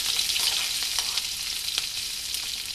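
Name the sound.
tempering spices frying in oil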